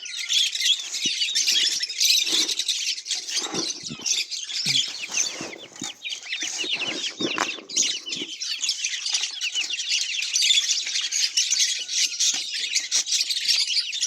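A flock of poultry and other birds eating salad chirps and clucks continuously, a dense, loud chorus of overlapping calls lasting the whole stretch with brief lower clucks early on.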